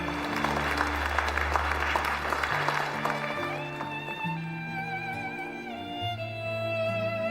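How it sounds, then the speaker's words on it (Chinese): Applause from the guests at an engagement ceremony, a dense burst of clapping that fades gradually while celebratory music plays on throughout. "让我们用热烈的掌声"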